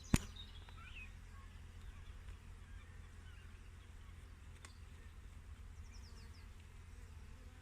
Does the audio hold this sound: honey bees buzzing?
yes